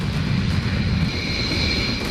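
Two Rafale fighter jets flying overhead, a steady loud broadband engine roar with a strong low rumble and a thin high whine holding through the whole stretch.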